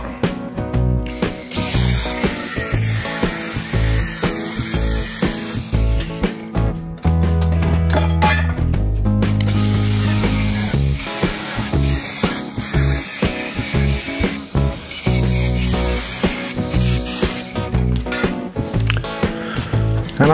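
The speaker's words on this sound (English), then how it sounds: "Gotta cut these legs off." Metal legs being cut off during a 1939 Hudson rat rod build: loud, continuous harsh grinding and cutting noise throughout, with a lower-pitched stretch midway, dense and close, without speech.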